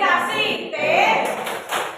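Group of adults doing a rhythmic clapping chant at an Indonesian teacher training session, brisk claps and thumps mixed with voices calling out together at close range.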